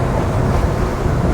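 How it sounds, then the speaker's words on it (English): Heavy waves crash over the bow of a stone crab fishing boat at sea during nasty night weather, a loud continuous wash of surging water and wind roar with no talk. "There's waves coming over the bow."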